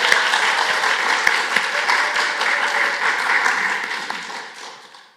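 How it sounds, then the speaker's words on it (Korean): Congregation applause during a church service at a small Korean church, welcoming visiting members of a mission committee from a partner church; steady dense clapping throughout, fading out toward the end, with no talk over it. "우리 박수로 환영하겠습니다."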